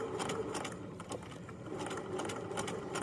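A sewing machine runs steadily up close, stitching a scrunchie seam with a continuous rapid mechanical whir and needle chatter.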